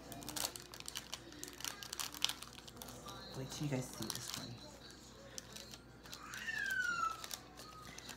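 A plastic bag crinkles and rustles in bursts while items from an Amazon haul are unpacked, with someone talking over the soft crackling throughout.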